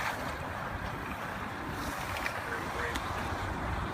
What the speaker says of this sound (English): We're going to see it go right into the water.